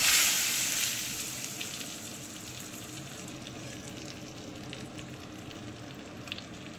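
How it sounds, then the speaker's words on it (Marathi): Spicy tadka with hing pours into dal and sizzles loudly, a bright hiss that is strongest at the start, then settles into a steady, softer frying crackle that carries on, close by and with no talk. "मस्त झणझणीत तडका सोडायचा"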